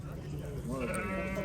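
A sheep bleats once, near and clear, in the bustle of a livestock market in Sokuluk, with voices talking around it.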